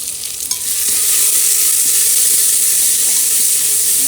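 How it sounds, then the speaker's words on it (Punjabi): Cumin, onion and garlic tempering fry in very hot oil, a loud close hissing sizzle that flares up after a brief clink and then holds steady and strong; no talking. "ਹੁਣ ਤੜਕਾ ਵੀ ਨਾਲ ਦੀ ਨਾਲ ਭੁੱਜ ਜਾਣਾ ਹੈ"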